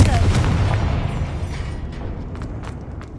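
A Confringo spell blast in Hogwarts Legacy, a single fiery boom that decays into a rumbling crackle over a few seconds, with faint debris pops toward the end.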